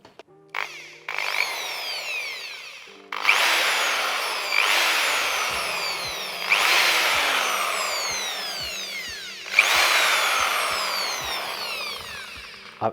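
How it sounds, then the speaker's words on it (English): A power drill whines in several bursts, spinning up to a high steady pitch and then winding down between runs, close and loud. "What about a drill?"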